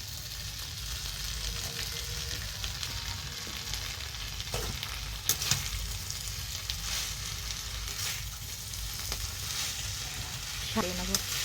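Greens and vegetables with spices fry in a pan, a steady close sizzle running throughout with occasional scrapes and clinks of stirring.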